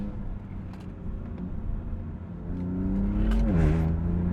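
A BMW M4 with around 500 horsepower revs and accelerates, its engine note climbing steadily from a low rumble to a louder, higher growl near the end, heard from inside or close by without talk.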